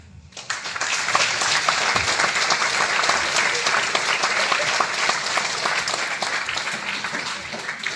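An audience at an awards evening applauds club volunteers, a sustained, even wash of many hands clapping that swells in quickly and holds steady for several seconds.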